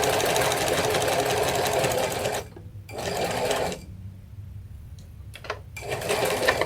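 Sewing machine stitching a cathedral window quilt block in rapid mechanical bursts, stopping briefly twice before a short restart, close and clear.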